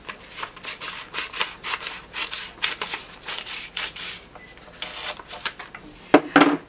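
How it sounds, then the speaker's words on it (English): Scissors snip through folded paper in a string of short, crisp cuts, close and irregular in rhythm, with a few louder snips near the end and no talking. "we're going to cut to the same place"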